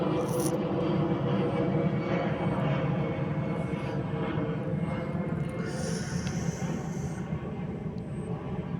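An airplane drones overhead above a bypass road bridge construction site at Tigato, with a drone flying nearby. The roar is steady and broad, fading slightly toward the end.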